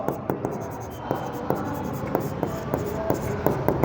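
A pen writing out an accounting problem on paper, with quick repeated scratchy strokes and light taps in an irregular rhythm, close and clear, with no voice over it.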